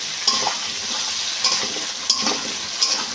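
Taro (mukhi kochu) frying in a pan over a gas stove. A steady, close sizzle is broken by a few sharp spatula scrapes at irregular intervals, with no talking.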